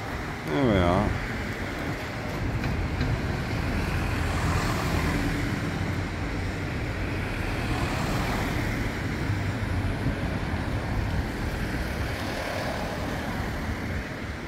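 Steady traffic rolls past on a rainy London street in a historic area, a continuous wash of tyres and engines with hiss from wet road, one brief higher tone near the start.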